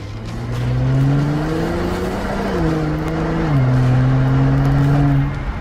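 A Mercedes E-Class sedan engine revs loudly and steadily, its deep growl rising and dropping in pitch as it accelerates, with a continuous roar throughout.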